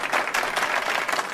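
Steady burst of applause filling the whole moment, dense and even with no break, and no voices over it.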